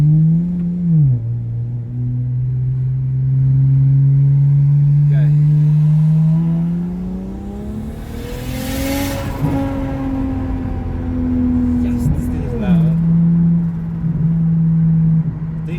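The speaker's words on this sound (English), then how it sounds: "This car is very loud." A loud single-turbo BMW 335i engine holds a deep drone, then climbs in pitch as it revs up, drops back, and idles again, with a voice briefly over it.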